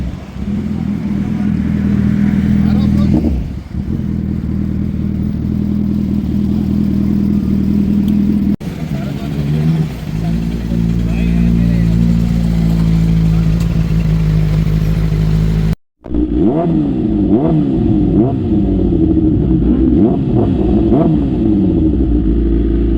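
Superbikes, a Suzuki Hayabusa, BMW S1000RR and Kawasaki ZX-10R among them, roar past one after another, loud close engines rising and falling in pitch, with a sharp cut between passes.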